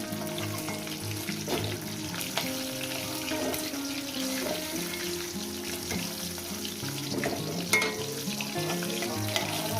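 Hilsa fish head sizzling in hot oil in a pan, a continuous crackle with bursts of spitting and scraping stirs throughout, heard close and with no voices.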